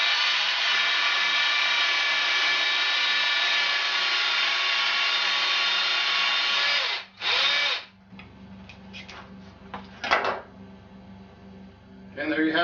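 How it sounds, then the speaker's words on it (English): A saber saw cuts through a turkey leg bone, a loud continuous buzzing for about seven seconds, then short bursts and quieter intermittent cutting noise. "we're going to use a saber saw, but you can use a hacksaw, a meat saw, anything you want"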